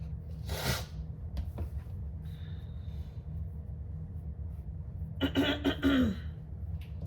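A person with a cold clears their throat and coughs, one short rough burst early on and a longer cluster near the end, close and fairly loud over a steady low background hum.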